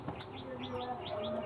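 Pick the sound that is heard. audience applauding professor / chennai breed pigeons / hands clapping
chennai breed pigeons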